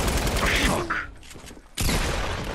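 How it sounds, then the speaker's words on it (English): Bursts of gunfire from the video game Fortnite, several loud rapid shots that break off into a short quieter gap before resuming. "I was shooting the guy you were shooting."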